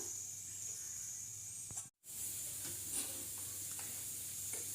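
A pot of sago boils with a steady hissing, bubbling simmer that runs throughout, with a brief dropout partway through.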